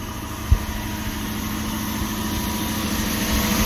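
A 2006 Toyota Tundra SR5 with a 4.7 liter V8 idles, a steady low rumble with a faint knock near the start, close and continuous with no one talking.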